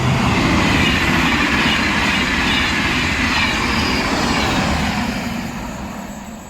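A French TGV high-speed train rushes past close by, a loud sustained roar of wheels and air that holds steady and then slowly fades toward the end.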